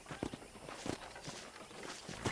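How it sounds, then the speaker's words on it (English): Horse hooves plod in a slow, uneven walking rhythm in the video game Red Dead Redemption, a few soft, faint clip-clops over quiet background ambience. "I picked out a fine horse for you."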